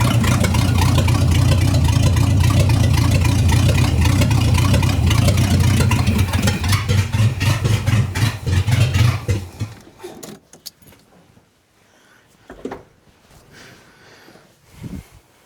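A 1975 Chrysler CJ's Mopar 360 V8 runs loud and steady close by for about ten seconds, then cuts off, leaving scattered clunks and faint rattles.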